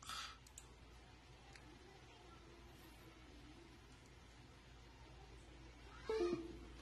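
A few faint computer mouse clicks pressing an unlock button, isolated soft ticks against quiet room hiss, with a brief louder knock near the end.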